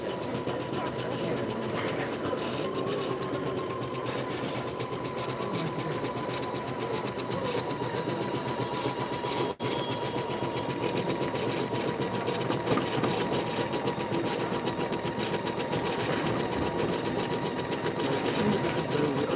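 An Empisal embroidery machine stitches steadily and continuously at close range, its motor hum and needle clatter carrying through the whole stretch with little variation, alone and without talk.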